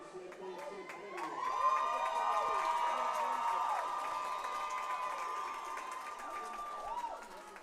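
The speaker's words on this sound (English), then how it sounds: "Could hear the clapping" Crowd at a girls' Big-12 conference swim meet, a sustained roar of cheering and shouting with whistles and tonal calls layered over a loud indoor pool hall, swelling after the first second and holding steady.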